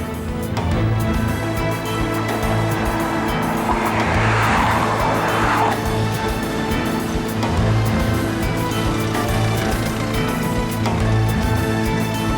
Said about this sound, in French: On va essayer de rouler un peu plus vite.